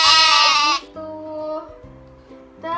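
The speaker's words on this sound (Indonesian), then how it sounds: "Bunyi domba apa sih adik-adik?" Sheep bleat in a series of close, loud, wavering calls, one long cry followed by shorter repeated bleats with a brief pause between them.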